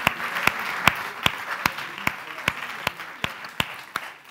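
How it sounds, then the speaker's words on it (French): Audience applause for a talented young performer at a youth event: a bed of many hands clapping with loud, evenly spaced claps from the crowd beating a regular rhythm, roughly two per second. "On peut applaudir Bastien, il a vraiment du talent."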